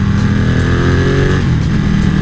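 Ducati Panigale 1299S motorcycle with an Akrapovic exhaust, its engine droning loud and steady close by while cruising, with a deep throaty tone and no talk.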